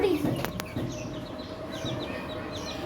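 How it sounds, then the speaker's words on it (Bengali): A chicken clucks faintly in a few short, soft calls over a quiet background, with a brief voice near the start. "মুরগি এখানেই তো আছে আমার"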